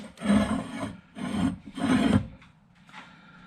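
A long breaker bar extended with a pipe strains against a seized ball joint bolt on a Hyundai Santa Fe, giving three loud, drawn-out grinding rasps with short pauses between them, then fading to low rubbing.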